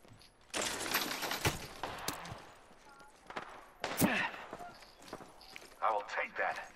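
Gunfire in the battle-royale shooter Apex Legends: sharp bursts and single cracks scattered across the clip, with a player's voice talking between and over the shots.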